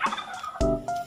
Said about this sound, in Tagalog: Sumagot yung mga pabo.